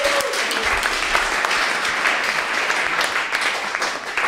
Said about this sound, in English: Everybody, another round of applause for Ali NYC,